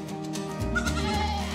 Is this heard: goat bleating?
yes